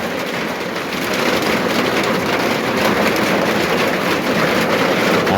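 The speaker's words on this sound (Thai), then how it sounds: "ฝนตกดีแล้ว" Heavy rain pours down steadily on a house in rural Thailand, a dense, continuous hiss that stays loud and unbroken throughout with no voices.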